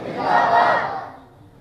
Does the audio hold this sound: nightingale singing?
no